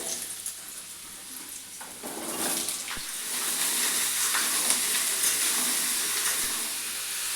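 Potatoes and papaya frying in mustard oil in a pan, a steady broadband sizzle that swells after the first couple of seconds and holds, with a few sharp clicks and stirring knocks.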